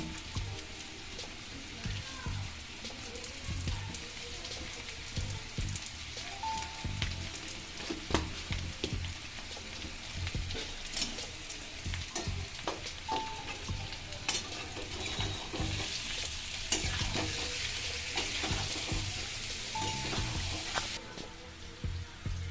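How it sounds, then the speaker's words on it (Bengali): Potatoes for a vegetarian aloo dum fry in a pan with a constant close sizzle, broken by frequent scraping and clinking of a stirring spoon. "দেখুন আলুগুলো ভাজা হয়ে এসছে।"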